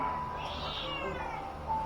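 A cat meows once, close and clear, a short drawn-out call over a faint low background.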